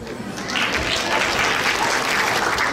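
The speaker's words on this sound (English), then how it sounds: "Let's have another round of applause for all the contestants." Audience claps for contestants at a national Kathak dance competition, a broad continuous round of applause that swells slightly after the first half second and holds steady and loud to the end.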